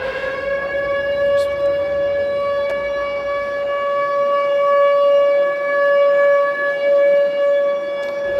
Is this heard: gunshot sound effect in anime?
no